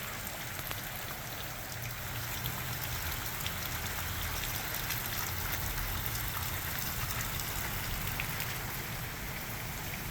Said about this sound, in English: wet and rainy. It's picking up too.